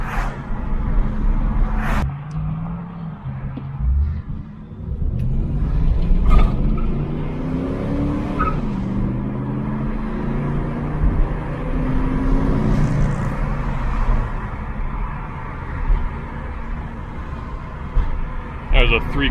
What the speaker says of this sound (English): There's a 3/4 throttle acceleration. It's not flat out.